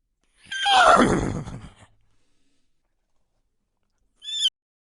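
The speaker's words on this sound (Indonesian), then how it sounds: "Ini adalah kuda, guys." A toy horse lets out one loud electronic neigh, a descending whinny lasting about a second, followed by silence and a brief higher chirping sound near the end.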